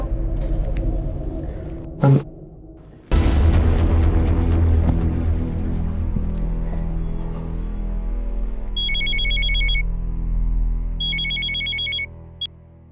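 A telephone rings in two bursts of bright electronic trills in the second half, heard over loud rumbling background noise and dramatic music.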